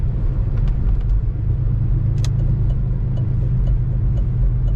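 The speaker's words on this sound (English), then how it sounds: "here we have a 1983 Ford Mustang GLX convertible. We'll take it for a drive." A 1983 Ford Mustang GLX convertible drives along with a steady low engine rumble and road noise, its drone continuous and fairly close, with a few faint clicks over it.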